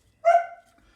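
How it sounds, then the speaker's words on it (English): A dog gives a single close bark that trails into a short whine in a home kitchen where guacamole is being made, then it goes quiet. "Excuse my dog in the background, she's hungry for guacamole."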